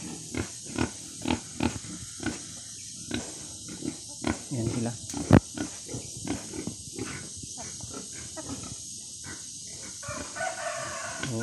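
Sows kept for breeding on a farm grunt in short rhythmic bursts, close and repeated, while a rooster crows faintly in the background.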